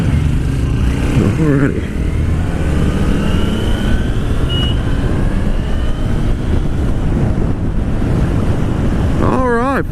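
2016 Suzuki Bandit motorcycle on a demo ride, its engine droning steadily beneath heavy rushing wind noise on the microphone, with a rider's voice briefly speaking over it.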